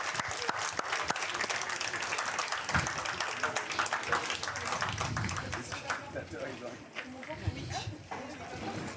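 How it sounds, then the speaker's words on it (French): Scattered applause with sharp individual claps rises from a crowd at a pétanque festival final in Saint-Juéry, fairly distant, while a voice talks over it. "on va les applaudir une nouvelle fois"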